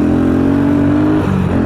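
A Yamaha Crypton T105 motorcycle engine revs steadily and loudly up close, holding a sustained buzzing drone before dipping slightly near the end.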